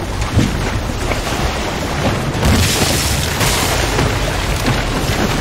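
Ship cannon fire in the Assassin's Creed Rogue naval game, heavy booms over a constant roar of wind and sea, with a strong blast near the start and another swell around the middle.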